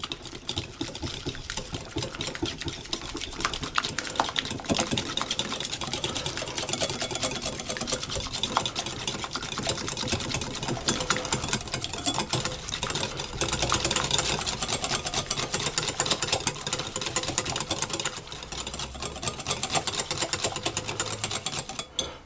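Whisking a mascarpone cream mixture for a fresh fruit tart in a bowl, a fast, steady, continuous rattling scrape that runs close and fairly loud for the whole stretch, with no talking over it.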